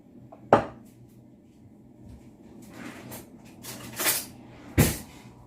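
Baker's yeast stirred in a glass makes sharp clinks against the glass with a scraping swirl between them, close and fairly loud in a quiet kitchen, no talking.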